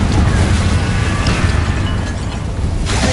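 A Confringo blasting spell erupts in the Hogwarts Legacy video game: a loud, sustained roaring explosion with a dense rumbling low end, tailing off before a fresh burst near the end.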